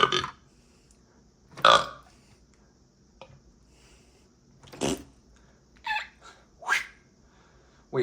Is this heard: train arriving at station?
no